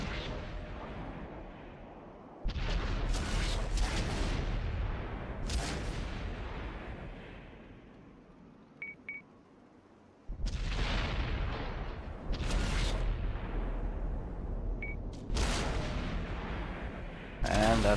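Tank cannons firing in a competitive tank-battle video game match: heavy booms roll out one after another every few seconds, loud and continuous, with rumbling decay between shots.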